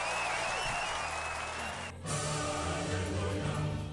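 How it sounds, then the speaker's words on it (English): Recorded applause plays as a steady, dense wash of clapping for a few seconds, with a brief dip in the middle before it carries on at full strength. "Anyway, Madirio, I've got some applause for you."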